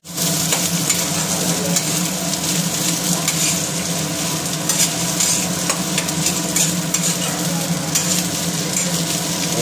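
Local fish fry in a pan for an Assamese home meal, a steady close sizzle and crackle of hot oil running throughout with faint stirring, no talk.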